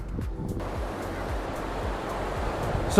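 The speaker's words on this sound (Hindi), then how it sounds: "गाइस मेरे पीछे समुद्र है" Sea waves roll onto a beach in North Kerala, a steady broad surf roar with low rumbling wash, close and continuous, mixed with some wind noise and no talking.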